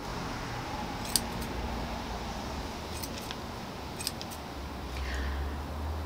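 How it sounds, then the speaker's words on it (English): Scissors cut long hornbeam bonsai roots during repotting, giving a few short, crisp snips spaced apart over a soft steady background hum. "I've now got very long roots which I'm going to cut off."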